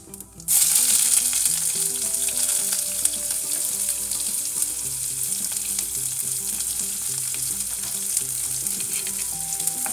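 Chopped onion and cumin sizzling in hot oil for sarson ka saag, a loud, continuous crackling hiss that starts abruptly and holds steady, with faint background music underneath.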